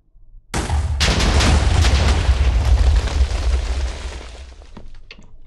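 A loud video game explosion bursts suddenly, followed by crackling blasts and a rumbling roar that gradually fades.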